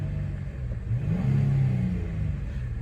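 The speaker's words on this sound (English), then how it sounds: "Let me just give you a very quick rev of the engine." A 2005 Nissan Elgrand with a 2.5-litre V6 petrol engine and automatic gearbox idles, then gives one quick, smooth rev that swells and falls back to a low hum, heard close by.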